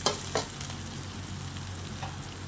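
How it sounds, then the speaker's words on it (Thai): Garlic and thinly sliced red chili stir-frying in a small amount of oil, a steady close sizzle with a few sharp scraping stirs of the spatula near the start and again toward the end. "แล้วก็ใส่กระเทียมกับพริกลงไปเลย พริกแดงนะคะ เราก็หั่นซอยแบบนี้นะคะ เราก็จะผัด"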